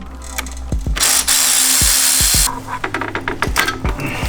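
A hand ratchet clicks in short bursts while loosening intercooler coupler clamps on an Ecoboost Mustang, with a loud hiss of air or blower noise filling the middle of the clip between the clicks.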